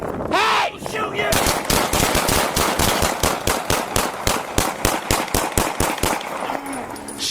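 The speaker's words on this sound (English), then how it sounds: "Shots fired." A rapid, evenly spaced burst of roughly two dozen loud gunshots rings out during a police shooting, with a brief shout just before the firing begins.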